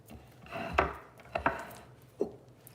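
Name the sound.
knife chopping a head of iceberg lettuce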